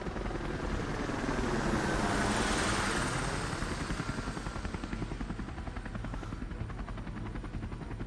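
Helicopter rotors roar close by, swelling early then holding a steady, throbbing hum as the aircraft hangs in place; no speech.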